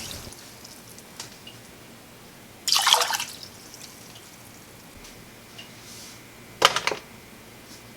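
Water splashes into a cooking pot for sushi rice in two short bursts, a few seconds apart, with faint drips and quiet room noise between them.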